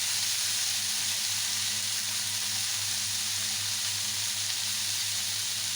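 Tomatoes frying in a pan of roasted eggplant for baingan bharta give a steady, even sizzle and hiss that holds without pause, with a low hum underneath and no talking.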